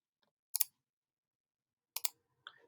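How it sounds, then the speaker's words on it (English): Computer mouse right-clicks on a Fusion 360 workstation: two pairs of crisp, close double clicks spaced well apart, followed by a lighter click and faint shuffling, with no talking. "So I'm right clicking on the circle and hitting delete."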